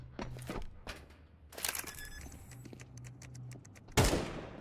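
Pistols fire in rapid bursts of sharp cracks during a European Pro League esports match, with close shots and a few quicker volleys, ending in one louder blast.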